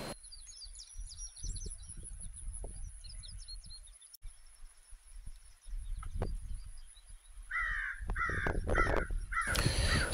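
Crows caw repeatedly, loud and fairly close, on a quiet rural homestead, with fainter chirps from other birds and a low rumble of wind underneath.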